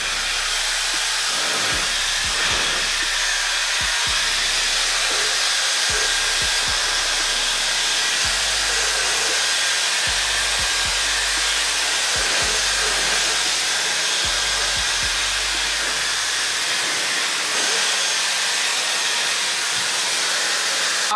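Dyson Airwrap i.d. hair styler running, a steady loud airy whoosh held for about twenty seconds, with low thumps of handling and faint shifts in airflow, no speech.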